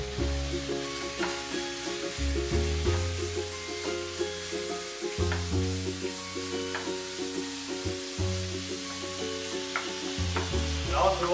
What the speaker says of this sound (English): And we're going to add our beef.